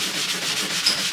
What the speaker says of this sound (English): What we got here is a sanding sponge.